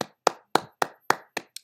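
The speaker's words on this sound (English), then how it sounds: "I got the dogs barking by clapping." Hands clap seven times in a quick, fairly even rhythm, each clap sharp, loud and close, with the last two coming slightly faster.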